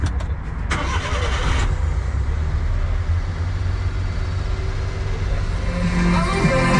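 A kei truck's engine cranks over and catches, then settles into a steady, close, loud running idle that fills the rest of the moment.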